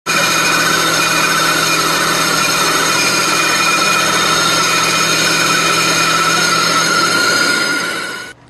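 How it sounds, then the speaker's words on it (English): A bandsaw cuts a piece of plexiglass with a loud, steady whining buzz that holds evenly for about eight seconds before winding down at the end. No speech accompanies it. "This is a piece of plexiglass that I'm going to cut on the bandsaw."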